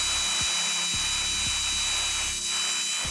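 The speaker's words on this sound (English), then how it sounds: "Okay, so I'm gonna pre-drill my hole so that the screw is easier to install." A power drill whines steadily as it pre-drills a hole in a pole, loud and close, with a few low knocks as the bit works. No one speaks.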